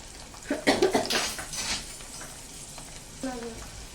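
Sliced garlic cloves sauté in a pan for an onion and tomato sabji, giving a close sizzle with stirring scrapes and a brief burst of clatter, then quieter frying.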